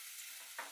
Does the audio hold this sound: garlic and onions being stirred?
yes